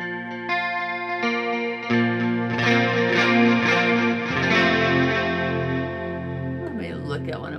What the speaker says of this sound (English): Let's see what the ping pong delay sounds like.